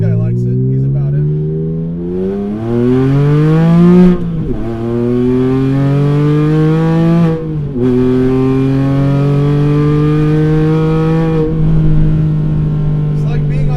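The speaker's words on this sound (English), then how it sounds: "we can end this video on a high note with just more crazy engine revving" A naturally aspirated 4.2L wide-body Porsche Cayman at about 400 wheel horsepower revs hard while driving, loud rising engine wails through several gears with sharp drops at each shift, heard from inside the car.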